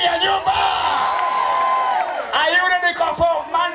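An audience at a live stage show claps and cheers for a singing performer, a lively crowd roar with whoops, under a loud voice calling out over it.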